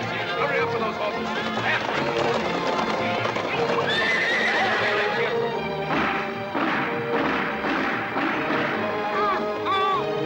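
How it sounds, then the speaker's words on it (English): Horses trot and gallop nearby in a rugged outdoor Western setting, with steady clip-clop hoofbeats, thuds and several loud whinnies, mixed with people talking and shouting. "Hurry up with those horses."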